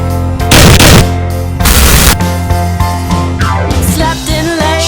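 Gunshot sound effects layered over a comedic song, loud bursts of rapid gunfire and booming shots repeating over the music with steady harmonic backing throughout.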